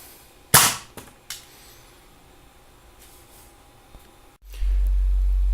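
A toy gun fires at a sign with a sharp loud crack, followed by a couple of smaller clicks, then a steady low hum sets in at the end.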